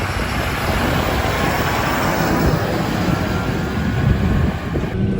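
John Deere 6930 and 7530 tractors drag racing side by side, their engines roaring loud and steady under heavy wind buffeting on the microphone, with no talk.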